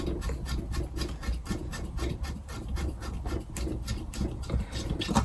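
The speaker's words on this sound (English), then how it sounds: "let me drill a hole in this in the base of this tank" Steady grinding, rasping whir of a drill boring a hole into the base of a model tank, with rhythmic pulses in the noise, close and continuous throughout.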